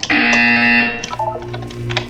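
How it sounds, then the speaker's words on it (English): A loud, harsh electronic buzzer in Portal 2 blares for about a second, followed by softer tonal game sounds and faint noises. "When you hear the buzzer, look down at the floor."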